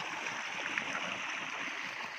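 Irrigation water runs steadily into furrows of a maize field sown as cattle fodder, a continuous rushing, gurgling flow close by with no voices.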